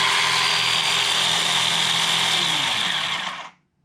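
Ryobi 18V One+ cordless chainsaw running: a steady, even electric motor whine held for a few seconds, close up and fairly moderate in loudness, then winding down and cutting off to silence.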